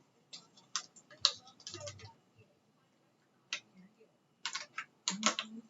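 A Cricut Maker cutting cardstock gives quiet, irregular ticking and clicking bursts with soft mechanical whirs between them, close and low in level with gaps of near silence.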